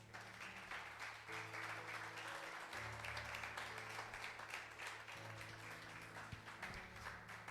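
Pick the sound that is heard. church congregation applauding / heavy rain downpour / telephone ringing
church congregation applauding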